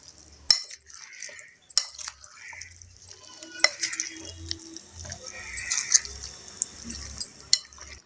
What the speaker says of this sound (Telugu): నూనె కాలుతుంది కదా, స్పూన్తో కలుపుతున్నాను.